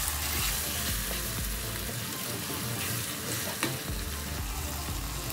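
Mashed aubergine bharta masala sizzles and fries in a pan, a loud, continuous crackling hiss close up with occasional stirring scrapes.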